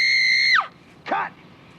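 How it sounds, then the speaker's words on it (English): A woman lets out a long, piercing scream for a film scene in a TV crime drama. It holds steady, then drops off, followed by a short second yelp, loud and close with no talk. "Great scream, honey."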